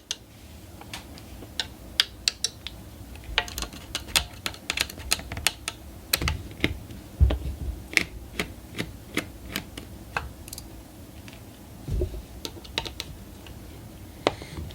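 Small clicks and ticks from a screwdriver working screws out of the back plate of an HD 4870 X2 graphics card, a brisk, irregular run of sharp close-up taps with no talking.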